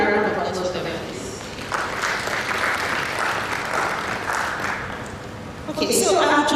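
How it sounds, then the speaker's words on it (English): Audience applause at the Nigeria Climate Finance and Investment Summit, a crowd clapping steadily at moderate volume for several seconds, with speech heard at the start and again as the clapping fades. "Can we have a round of applause for them, please?"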